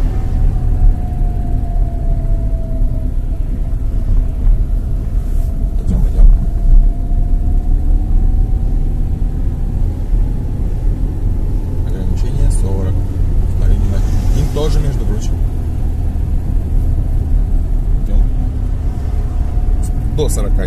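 A car drives along a road with a constant low rumble heard from inside the cabin, and people talk over it throughout.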